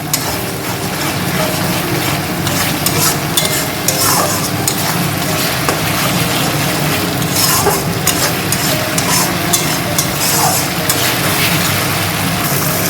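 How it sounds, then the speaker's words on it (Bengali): Ridge gourd with turmeric and salt is stirred in a pan over a raised gas flame: a steady dense sizzle with scraping and clattering utensil strokes throughout, no voices. "সব কিছু দিয়ে গ্যাসের জোরটাকে বাড়িয়ে আমি একবার ভালো করে নেড়ে নেব।"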